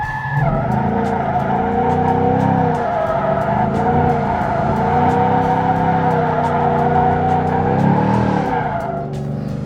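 Tires on a Ford Mustang squeal continuously through a long drift, the engine roaring steadily underneath with small surges of throttle, loud and close throughout.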